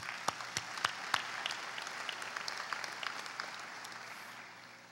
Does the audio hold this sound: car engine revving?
no